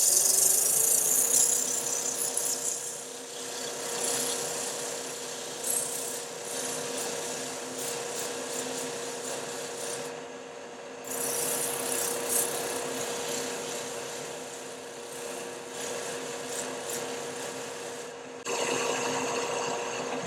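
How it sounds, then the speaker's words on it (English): Wood lathe spinning while a piece is turned and sanded, a steady close machine hum with a constant tone and rasping friction throughout, briefly dropping out twice before resuming. "My lathe is spinning a little quick right now, and I'm having a little control problem."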